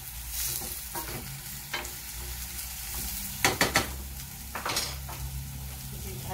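Onion frying in a pan for a white sauce to go with ravioli, sizzling steadily throughout with brief clatters of stirring and a spoon against the pan near the middle and end.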